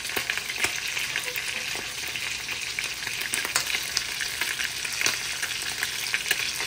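Tilapia and tuna sizzle steadily as they fry in a pan, a continuous loud hiss with scattered pops and crackles and no talk over it.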